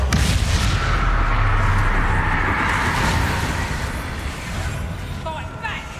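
An Expulso spell detonates during combat in Hogwarts Legacy, a loud, rumbling blast that swells and slowly fades, with brief bright magical crackles toward the end.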